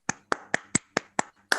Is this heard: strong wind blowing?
no